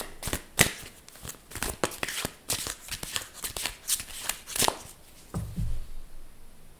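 Tarot cards being shuffled by hand: a run of quick, crisp riffling and slapping bursts, close and clear, ending with softer handling noises.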